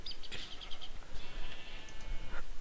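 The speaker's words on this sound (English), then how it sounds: "And some sheep." Sheep bleating in Minecraft with the Tekkit modpack, a few short, fairly quiet bleats in quick succession over a soft background hum.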